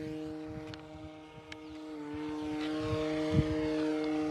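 Horizon Hobby Carbon Z Cub SS 2.1 m RC plane at full throttle for takeoff, a steady high electric-motor and propeller whine held at a constant pitch, moderately distant, with no talk.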